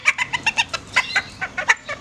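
A young bantam hen clucks close by in a quick series of about a dozen short, bright notes, steady and unhurried, with no other sounds around.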